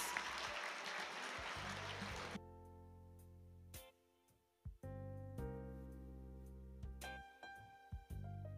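Audience applause at a school graduation ceremony, a dense burst of clapping for the first couple of seconds that cuts off abruptly into quieter hall sounds with a sustained tone.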